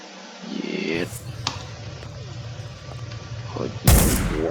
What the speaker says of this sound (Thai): ปืน เดเซอร์ดีเกิล